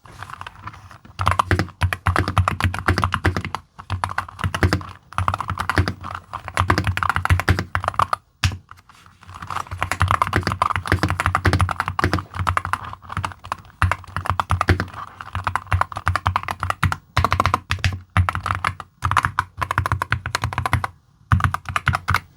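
Continuous typing on a mechanical keyboard, a Keychron K10 HE, with dense rapid keystroke clatter lasting throughout, close and fairly loud, with brief pauses between bursts and no talking.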